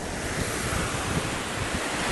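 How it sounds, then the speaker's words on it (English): Strong wind roars across a Michigan lakeshore with waves washing in, a dense continuous rush of wind buffeting the microphone over surf, with no voices. "Sure is windy today"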